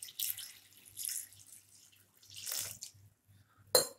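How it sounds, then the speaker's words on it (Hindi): Water splashes and gurgles in short bursts into a bowl, quiet and close, ending with a sharp clink. "इस बॉल में भर के पानी डाल लेंगे"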